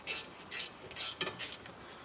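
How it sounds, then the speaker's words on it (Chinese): An adjustable wrench tightens a bolt on the front wheel hub during a Chevrolet Cruze wheel bearing replacement, making four rhythmic metallic ratcheting strokes about half a second apart, close and clear. "另外一侧用活动扳手把它"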